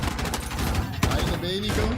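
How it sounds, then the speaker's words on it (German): Enemy gunfire in a Battlefield match, dense rapid shots and bursts layered over one another, loud and close, with a voice talking over the shooting. "Auf der linken Seite, rechts, sind sehr viele Gegner, die uns schießen."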